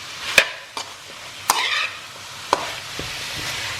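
Chicken chow mein is stir-fried in a pan: a soft sizzle sits under a few sharp, scattered clanks of a utensil against the metal, close by, with no voices.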